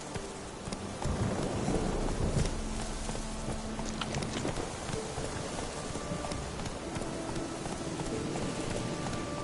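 Roach, the horse in The Witcher 3 on PS5, galloping with rapid rhythmic hoofbeats over a dense, rain-like ambient bed, fairly faint and continuous.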